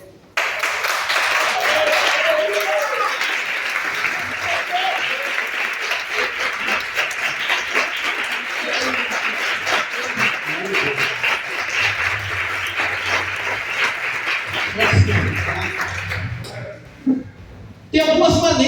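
Church congregation clapping and applauding through a long, dense stretch, fairly loud, with voices mixed in. It thins out near the end before a burst returns.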